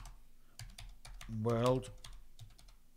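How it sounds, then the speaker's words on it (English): Rapid clicking on a computer keyboard that tends to catch several keys at once, an irregular clatter close to the microphone with a voice briefly speaking over it partway through. "I hate this keyboard. It always makes me push multiple keys."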